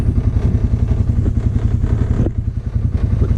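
A Polaris Ranger UTV engine chugs at close range with a rough, rhythmic low throb and some clatter as it is put into gear, staying loud and steady throughout.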